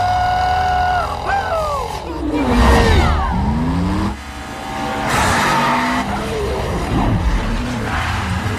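Race cars skid in a street race, with tires squealing loudly and engines revving and roaring past in a sustained, dense burst of noise that dips briefly and then surges again.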